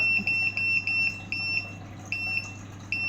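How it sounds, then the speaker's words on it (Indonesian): FPV drone low-battery buzzer beeping: a series of short, high-pitched electronic chirps, loud and close, coming in quick pairs and single beeps at uneven intervals over a low steady hum, with no speech. "ini buzzernya aktif karena baterainya habis"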